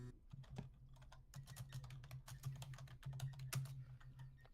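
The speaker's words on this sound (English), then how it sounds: "somebody's got some major typing mittens going on" Rapid, close clicking of computer keyboard keys in uneven bursts over a low steady hum, with no talking.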